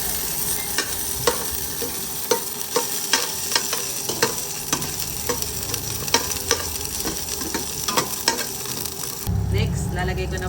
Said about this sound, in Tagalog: So dito na ang diretso sa kaserola. Dito na po itong luya.